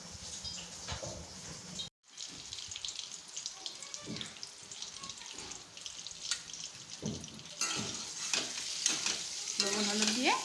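Eggs fry in oil with salt and turmeric, a close sizzle with stirring and utensil clatter, briefly cut off near the start and growing louder toward the end, with faint water running nearby.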